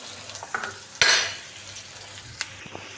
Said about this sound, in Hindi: और प्याज को भी हम अच्छे से होने देते हैं सौटे